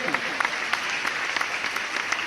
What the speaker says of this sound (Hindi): एक बार तालियां बजाइए आनंद की।